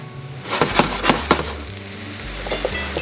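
Food for meatloaf browning and caramelizing in a hot pan, a steady close sizzle with a few sharp crackles and pops over a low background hum, no talking.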